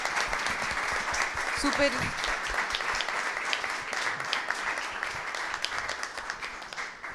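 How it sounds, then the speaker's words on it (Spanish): Audience at a panel event on science, technology and innovation in Chile gives the panelists a long round of clapping, steady and fairly close, with a voice speaking briefly over it near the start. "quiero que le demos un aplauso a nuestros panelistas"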